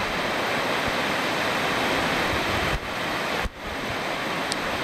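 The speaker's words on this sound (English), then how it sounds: "You can see this little waterfall over there" A small waterfall pours into a swimming pond in Manning Gorge, giving a loud, constant broadband rush of falling water with two brief dips in level and no voices.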